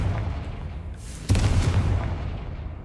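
The Confringo blasting spell explosion in Hogwarts Legacy, a sudden loud boom that gives way to a sustained rumbling roar and a noisy wash of debris.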